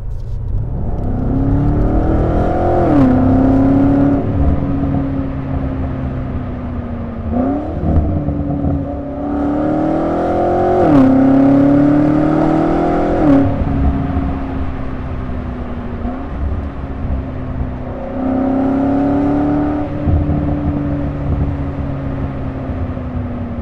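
A BMW M8 Competition Gran Coupe (F93) on a test drive: its engine rises and falls through several close, loud revving pulls, with smooth pitch sweeps between cruising stretches and no talking.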